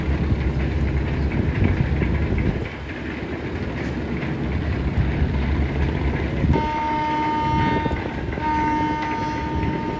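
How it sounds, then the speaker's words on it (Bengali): The passenger ferry Green Line 2 turns in reverse gear, loaded with thousands of passengers on an Eid special trip to Ilisha. Its heavy engine rumbles steadily, broken by a loud tonal horn blast midway and a second blast near the end. "গ্রিন লাইন দুই ঘুরছে ব্যাক গিয়ারে খুবই ক্লোজ দিয়ে যাবে আমার গ্রিন লাইন দুই ইলিশার উদ্দেশ্যে"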